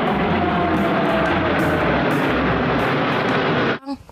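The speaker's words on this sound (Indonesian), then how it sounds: "Wow, di sini ada pesawat terbang." Loud, steady roar of an airplane engine passing close overhead, a continuous broadband rumble that cuts off abruptly near the end.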